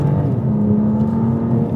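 A BMW M2 Competition with a straight-six engine hums in a steady, loud, low drone from close range, a continuous engine tone without clear rises or drops.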